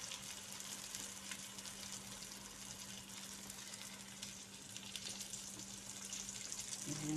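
An eggplant omelette fries in oil, giving a faint, steady sizzle under a constant low hum, with no talking.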